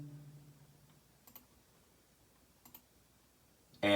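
A computer mouse gives a few faint, crisp clicks in two brief double-click pairs spaced over a second apart in an otherwise quiet room, with no talking.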